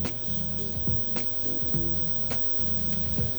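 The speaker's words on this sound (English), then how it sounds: "Again, you drop a little garlic in there" Garlic sizzles steadily in hot oil in a pan, a soft continuous crackle with faint stirring taps, heard alone without talk.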